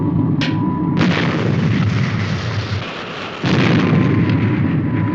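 Cannon fired from a ship at sea, producing loud booming blasts that roll into sustained roaring rumble, with a sharp crack near the start and another surge a few seconds later.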